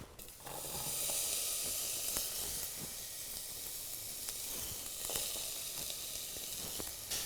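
Oil sizzling in a hot pan, a steady bright hiss that holds evenly close up throughout, with a few faint clicks and no voices.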